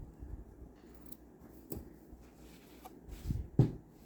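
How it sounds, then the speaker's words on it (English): Scissors snip off extra crochet yarn ends: a few quiet, sharp clicks scattered over a soft rustle, the loudest cut near the end. "then you can just cut off some of that extra string"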